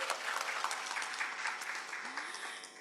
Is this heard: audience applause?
yes